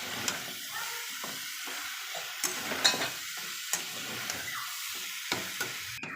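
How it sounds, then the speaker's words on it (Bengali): Young jackfruit being lightly stir-fried in a pan, with faint steady sizzling and scattered soft scraping clicks from the spatula, close but quiet. "এবার এঁচোড়টাকে আমি একটু হালকা নেড়ে কষে নেব।"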